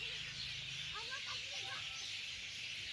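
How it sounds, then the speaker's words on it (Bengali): Faint, brief bird chirps scattered over a steady background hiss, distant and soft. "আর এখানে এত পাখি কিচিরমিচির আওয়াজ করছে"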